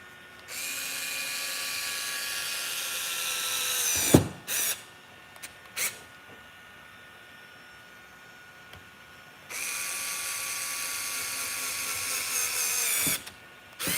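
A cordless power driver whirs in two long bursts, driving screws back into an RC car, separated by short clicks and brief trigger pulses, close and clear with no talking.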